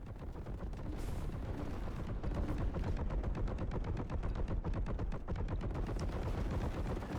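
In Warhammer 40K: Boltgun, a heavy bolter fires without stopping. Its rapid, dense stream of booming shots builds after a short start and stays loud and relentless to the end.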